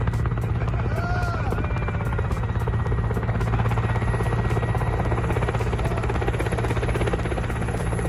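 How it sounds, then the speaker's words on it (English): A plane with afterburners flies inches above a group posing for a photo, its loud, continuous roar holding steady with a rapid pulsing throb throughout. "the plane soaring inches above"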